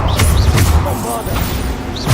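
Bombarda spell blasts in the video game Hogwarts Legacy, a loud booming impact with crashing and thudding, followed by rumbling debris over low background noise.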